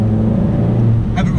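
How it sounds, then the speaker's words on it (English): A Ford Focus RS engine gives off a steady, deep, close rumble for a moment, with a short brighter burst near the end. "that distinct sound of the Ford Focus RS"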